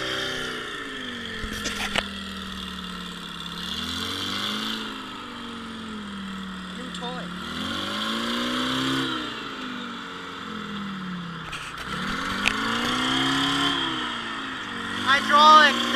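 Old Michigan machine with a hydraulic box, its engine running rough and cycling through repeated revs and dips, steady and close, while someone talks over it.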